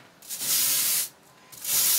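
Abrasive sanding on a wooden bow limb, two long, close, loud bursts of rough hiss separated by a short quiet pause, with no voices.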